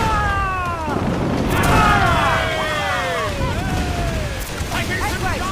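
Ship cannons fire in Assassin's Creed IV Black Flag, with heavy booms rolling under swooping tonal sounds and voices in a continuous naval battle mix.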